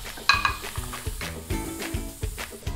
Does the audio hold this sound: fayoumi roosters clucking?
no